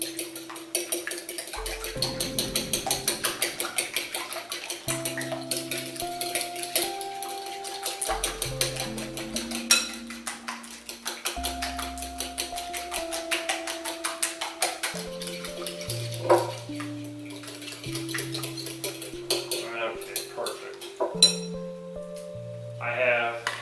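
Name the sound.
mixing and beating ingredients in a bowl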